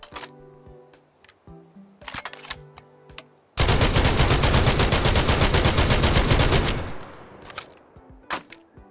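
A Chauchat machine gun fires in the virtual reality shooter H3VR: a few sharp mechanical handling clicks, then a loud sustained burst of rapid automatic fire for about three seconds, followed by trailing echoes and further clicks.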